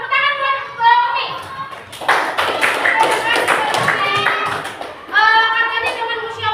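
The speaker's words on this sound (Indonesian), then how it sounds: "Tepuk tangan buat Umi." Classroom children clapping for a classmate, a dense burst of applause from many small hands lasting several seconds, framed by someone speaking before and after.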